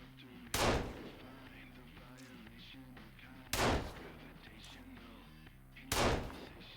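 Gunshots in Sons of the Forest, three loud booming shots spaced a few seconds apart, each with a short echoing tail over quieter game ambience.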